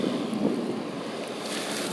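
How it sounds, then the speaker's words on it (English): Steady wind rushes and buffets a microphone outdoors beside a seed nursery, a continuous broadband roar with a stronger gust near the end and no talk. "Sorry about the wind."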